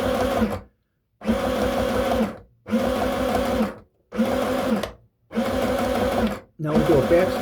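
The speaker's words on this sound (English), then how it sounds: "now we do a back stitch, now we do a forward stitch" Sewing machine stitching a red cotton skirt runs in six short, even bursts separated by brief silences, moving back and forth between back and forward stitching, close and clear, with no talk.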